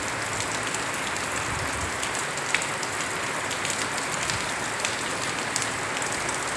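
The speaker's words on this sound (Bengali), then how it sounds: "এবছর প্রচণ্ড বৃষ্টি" Heavy rain pours down in a constant hiss of drops striking surfaces, with scattered sharper splatters and no voices over it.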